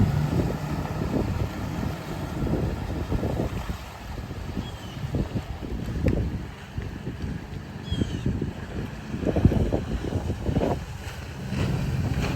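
A boat's outboard engine idles roughly in the open, a low steady rumble blended with wind buffeting the microphone and some water noise, with no talking; the idle is uneven, suspected to come from worn reeds.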